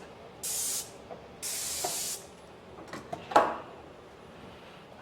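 A Graco 490 XT airless paint sprayer sprays green paint indoors in a shop, two loud steady hissing bursts of about half a second and a second, followed by a few fainter clunks and a louder knock.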